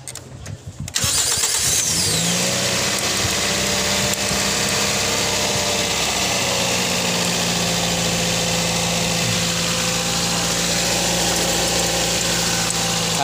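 A Toyota Vios engine cranks and catches on a cold start, then settles into a steady, loud, close idle that holds with a constant hum and no talking.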